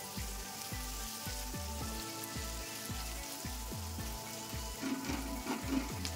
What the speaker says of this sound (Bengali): রসুন কুচি আর পেঁয়াজ কুচি তেলের সাথে খুব ভালো করে মিশিয়ে নিয়ে হালকা করে ভেজে নেব